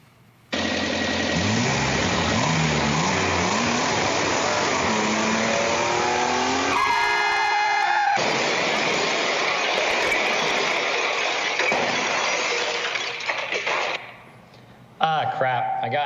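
A car engine drives and accelerates loudly in a staged demo, with tire noise and shifting tones before a minor fender-bender collision, ending in an abrupt change and a short sharp sound.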